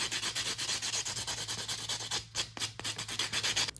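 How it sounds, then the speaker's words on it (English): A nail buffer rubbing over polygel overlay nails, fast rhythmic back-and-forth scrubbing strokes, close and steady, with a brief pause before the strokes resume. "I'm going to get my buffer and just buff everything out."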